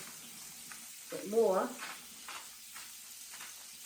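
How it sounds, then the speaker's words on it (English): Sizzling and frying in a hot pan, a brief crackling burst mid-clip with a few quieter bursts after, under a short spoken phrase. "you have that nice sizzle"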